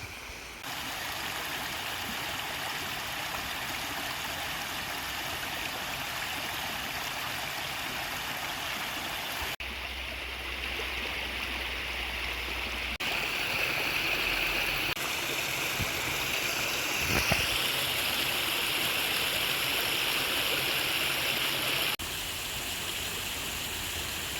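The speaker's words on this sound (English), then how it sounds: "There's something so charming about this little stream." A small stream fed by melting snow flows outdoors, a steady close rushing and burbling of water that holds for the whole stretch, with slight shifts in tone and no talking.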